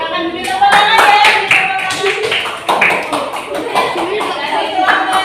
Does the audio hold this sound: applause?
yes